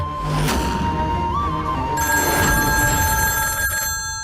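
A telephone bell rings continuously in a household setting, a steady electronic trill repeating throughout at moderate loudness with faint room sound beneath.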